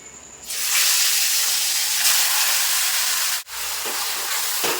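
Chicken going into hot oil with whole garam masala spices bursts into a loud, broad sizzle that holds steady for several seconds, dips briefly, then continues close up.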